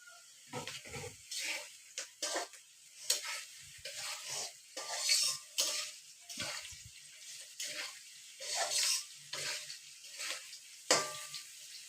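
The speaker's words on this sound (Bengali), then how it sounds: "কেটে রাখা কাজু আর কিশমিশ দিয়ে দেবো এবারে। তারপর এবার সুন্দর করে নেড়ে নেব।" Chopped cashews and raisins are stirred as they fry in a pan, making a series of short, close scraping and sizzling bursts at irregular intervals with brief quiet gaps between.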